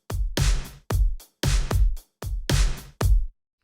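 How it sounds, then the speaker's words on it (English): Cinematic drum preset from the PRISM pop drum plugin, with booming kicks and a big reverb-heavy clap in a steady repeating pattern, loud and full, each hit ringing out before the next. "This one sounds very cinematic actually."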